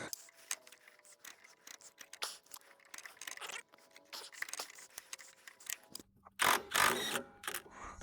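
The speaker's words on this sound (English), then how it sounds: "I'm going to pull this cotter pin. So you got to straighten it around." A cotter pin is worked loose and pulled from a Ski-Doo Rev snowmobile chain case, with close metallic scrapes, clicks and tool handling in irregular bursts, ending in a louder rattling pull.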